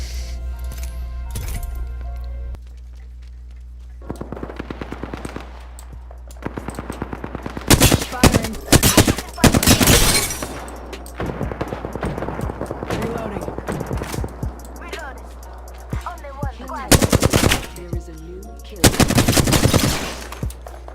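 Automatic weapon fire from the battle royale game Apex Legends, with repeated bursts of rapid shots and several louder volleys, mixed with in-game clinks and effects, and a voice speaking at times.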